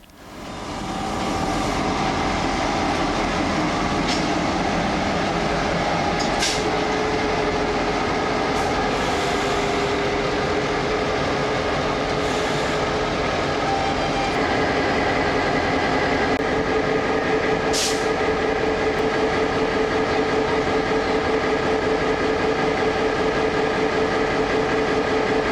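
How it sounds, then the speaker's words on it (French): Diesel locomotives shunt at a station platform with period mechanical signals: a steady, loud engine rumble and rolling-stock noise runs throughout, with occasional sharp metallic squeals from wheels or brakes. "J'assiste au mouvement de nos locomotives, de notre train."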